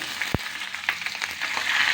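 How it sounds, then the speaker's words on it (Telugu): Capsicum frying in a pan, a lively crackling sizzle that starts with one sharp knock and builds slightly louder toward the end, close-up with no talking. "ఇప్పుడు క్యాప్సికమ్ వేసుకుందాం."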